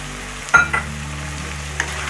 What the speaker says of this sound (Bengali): চালের সঙ্গে ভালো করে ভেজে নেব।